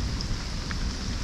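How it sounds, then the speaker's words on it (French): Heavy rain pouring during a storm in Sidi Bel Abbes, Algeria, a dense continuous loud hiss of water on surfaces with a low rumble underneath, with no voices. "Du tonnerre, de la pluie, de la fraîcheur."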